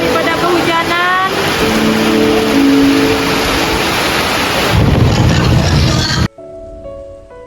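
Heavy rain pours steadily with rolling thunder, loud and continuous, during a staged landslide disaster drill, then cuts abruptly to a quieter scene with faint tonal sounds.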